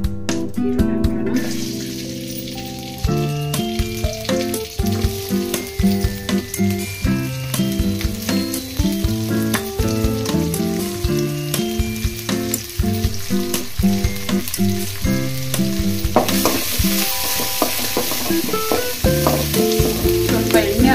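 Chopped onions sizzle in hot oil in a pan while being stirred for a Kannada bassaru recipe, a steady frying hiss with occasional scraping under tuneful background music.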